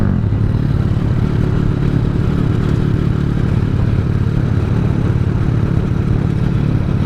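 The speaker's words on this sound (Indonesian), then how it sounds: "Dibilang motor kemelatak padahal iyo anjay." A motorcycle engine runs at a steady idle with a rough, rattling clatter, loud and close, continuing evenly without any talk.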